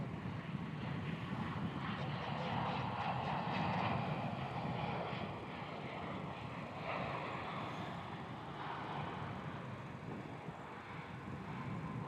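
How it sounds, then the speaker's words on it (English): A Virgin Australia Boeing 737 arriving from Adelaide lands on runway 34 at Melbourne Airport, a loud, sustained jet roar that holds steady and then slowly eases, with no talk over it. "Virgin 737 coming in from Adelaide,"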